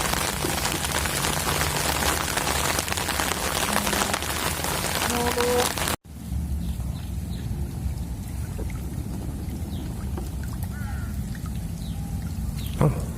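Steady heavy rain pours during a storm over water at a rural Thai fishing spot, a dense continuous hiss that briefly cuts out before resuming at full strength, with no voices.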